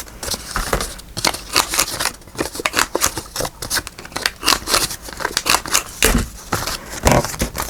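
Scissors snipping through paper in a series of quick, crisp cuts with some crinkling and rustling between them, close and fairly loud with no talking.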